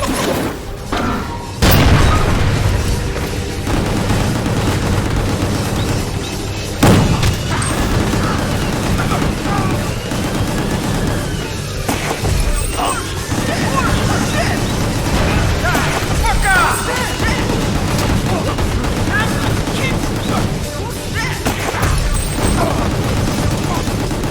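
Heavy explosions from demolition shots and bursts of gunfire in the action video game Gungrave GORE, with sharp booms over constant chaotic combat noise and someone talking over the action throughout.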